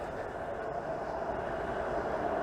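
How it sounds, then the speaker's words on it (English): A Toronto streetcar rolls past on a city street on a cold, quiet Sunday, giving a brief, moderately distant rumble of steel wheels on rails with no voices. "here goes a streetcar"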